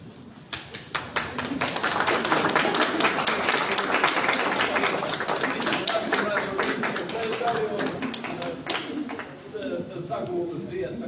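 Audience applause for the award-winning author at the opening of a Latvian Artists' Union exhibition, dense sustained clapping with individual sharp claps standing out, fading slightly near the end, with voices murmuring underneath.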